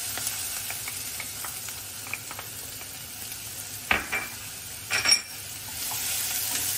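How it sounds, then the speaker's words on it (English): Cumin seeds and chopped onions fry in coconut oil with a soft, constant sizzle while a utensil scrapes and stirs the pan a few times, producing brief louder clatters near the end; no one speaks. "So first, we're going to start adding the cumin seeds. So it fries up a bit."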